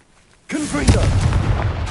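A Confringo blasting spell explosion in a Harry Potter video game: a single sudden loud burst whose roaring, crackling blast sustains to the end, with a shouted voice mixed in at the onset.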